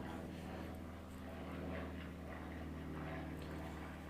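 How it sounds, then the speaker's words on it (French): An airplane passes overhead at a distance, a faint, steady propeller-engine drone with a low hum that swells slightly and holds throughout, heard outdoors. "Attendez, parce que j'ai un avion qui passe"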